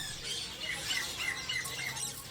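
Caged birds at the Hong Kong bird market squawk and chirp in a busy, overlapping chorus of shrill calls, fairly near and steady throughout.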